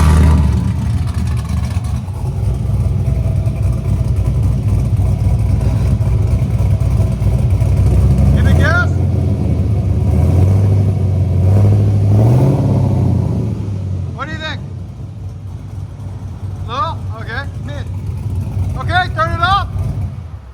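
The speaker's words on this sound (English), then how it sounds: "So we're gonna start with the Flow FX by Flowmaster." A car engine breathing through a Flowmaster Flow FX perforated muffler idles with a deep, loud, steady rumble, then revs in rising and falling surges, while a voice talks over the later part.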